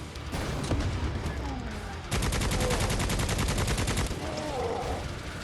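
Rapid bursts of loud gunfire from a gun in Necromunda: Hired Gun, a fast rattling stream of close shots that stops and restarts, with game effects around it.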